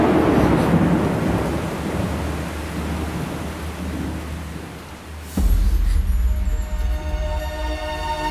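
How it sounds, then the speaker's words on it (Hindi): Heavy rain pours steadily in a dense wash of noise, and a loud thunderclap breaks in partway through, followed by a rumbling roll that lingers under the downpour. "कितनी बारिश हो रही है"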